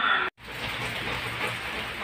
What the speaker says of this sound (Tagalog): Lumakas na uli ang ulan at saka hangin